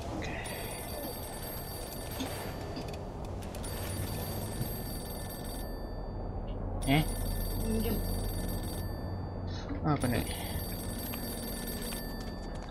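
A telephone rings in the Mafia 2 video game, a repeated bell-like ringing over steady background ambience, with someone speaking briefly.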